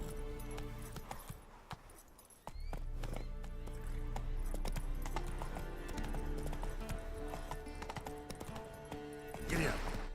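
Horse hooves clip-clop in Witcher 3, a steady rhythmic trot up close over ambient game background, the pace picking up after a brief pause.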